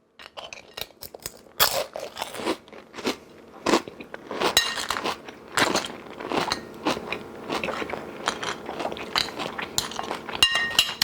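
Crunchy oven-baked nachos being bitten and chewed close up, a steady series of loud, sharp crunches and crackles with no talking.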